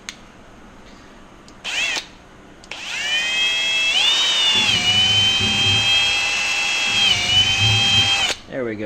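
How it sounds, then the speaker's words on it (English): Power drill running with a long number 20 bit while working on the forward torque tube bearing of a Zenith 750 Cruzer aircraft, a short burst followed by a loud, sustained high whine whose pitch shifts as the bit bites, then stops. "Let's get our very long number 20 drill bit"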